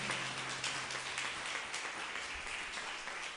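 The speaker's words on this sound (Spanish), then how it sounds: "¿Le puede dar el más grande y fuerte de los aplausos a ese Dios maravilloso?" A church congregation applauding together, a broad, continuous wash of many hands clapping at steady strength throughout, heard from a distance in a large room with a faint low hum beneath.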